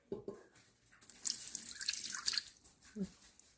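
Juice is poured into an Instant Pot over a pork roast, a soft liquid stream with light splashing that swells in the middle and trails off into a few drips, fairly quiet and close.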